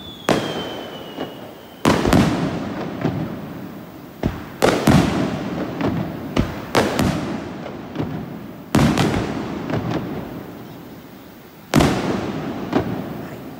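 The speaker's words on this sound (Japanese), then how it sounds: "よかったらね花火映像も" Fireworks boom and crackle repeatedly, with loud bursts every few seconds followed by rumbling echoes and smaller pops, heard from a moderate distance.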